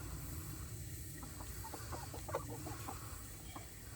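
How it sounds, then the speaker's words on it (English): Several chickens cluck softly and irregularly over a low, steady background hum, fairly close but quiet. "Kind of noisy with the chickens."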